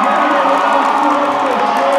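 High school student section cheering in a gym, a dense, loud wall of shouting and whooping voices that holds steady without a break.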